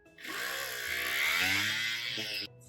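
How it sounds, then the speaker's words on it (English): A Dremel carving tool fitted with a cutting wheel whines steadily for about two seconds while cutting through a skull diorama piece, loud and close, then cuts off abruptly. "I'm going to use a cutting wheel and my Dremel carving tool."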